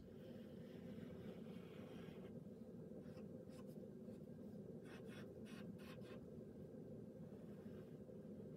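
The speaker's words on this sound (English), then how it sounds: "I'm going to draw their front wing first." Pen drawing the front wings of a butterfly on paper: continuous scratchy strokes with short quick bursts, close and steady over a low background hum, no talking.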